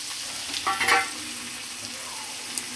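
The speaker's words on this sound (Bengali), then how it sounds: "এইবার দিলাম টমেটো পেঁয়াজ কুচি কাঁচা লঙ্কা কুচি" Tomato, chopped onion and green chili hitting hot oil for a quick tomato-egg dish, a soft steady frying hiss with a brief burst of sizzle and stirring clatter near the start, close by.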